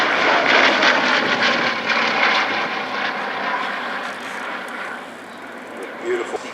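A WWII bomber drones overhead at an air festival, a loud engine roar that peaks early, then slowly fades as the aircraft moves away.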